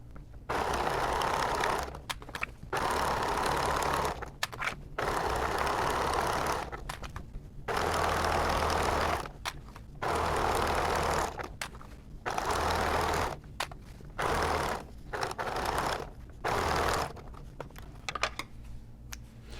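Sewing machine running straight stitches on a braided boho bag, in repeated bursts of steady whirring a couple of seconds long, separated by short quiet pauses, fairly faint and with no talking.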